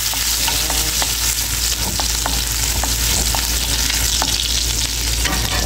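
Garlic frying in cooking oil in a home kitchen pan, a steady broadband sizzle running unbroken throughout with faint clicks of stirring, close and fairly loud with no voices.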